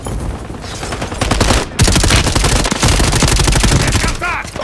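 Light machine gun fire in Call of Duty Warzone: loud, sustained rapid bursts of automatic shots with a short pause partway through, dense and close over battle noise.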